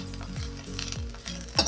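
Small omena fish frying in hot oil in a pan, a steady close sizzle broken by scraping turns of a utensil against the pan every few moments.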